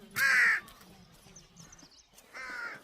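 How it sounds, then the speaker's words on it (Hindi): Large crows near a mountain temple on the Rudranath pilgrimage trail in Uttarakhand give two loud, harsh caws, one at the start and one at the end, with a quiet pause between them. "और यहाँ जो है देख रहे ना कौवे कितने बड़े हैं।"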